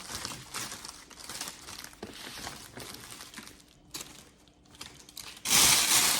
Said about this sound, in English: I'm just twisting my bow on now.